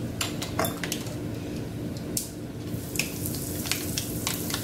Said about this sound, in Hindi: आपलं तेल गरम झालेलं आहे, थोडंसं आपण थंड करूया। थोडे सरसो टाकते